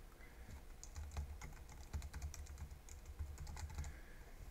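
Quiet, steady typing on a computer keyboard while entering a home address and email into a Google Maps blur request form, soft close keystrokes over a low background hum, no talking.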